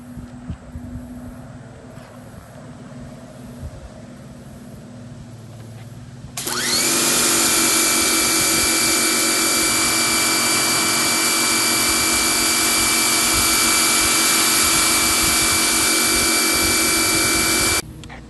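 A Sun Joe electric pressure washer fitted with the green 25-degree nozzle starts up abruptly after a quiet stretch, then roars in a loud, steady whine with a clear tonal hum for about eleven seconds before cutting off.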